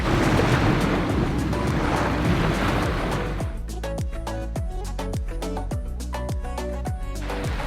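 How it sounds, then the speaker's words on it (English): Surf washes steadily onto a quiet beach on a Thai island, then gives way to a run of regular sharp clicks or knocks over a softer background wash. "now we're at this beautiful beach"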